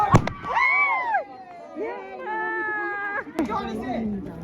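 Firecrackers burst at a Shivaratri celebration in Tanahun, with sharp loud pops at the start and again near the end, while excited voices talk and exclaim over most of the stretch.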